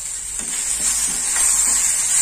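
Fried onion and tomato sizzle in a pan as turmeric and salt are stirred in, a continuous close frying hiss with soft scraping strokes of the spoon, growing slightly louder toward the end.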